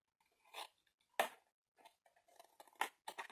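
Scissors snip through paper while a perpetual calendar with a clock option is being made, giving a few short, quiet crisp cuts separated by pauses, with no voices.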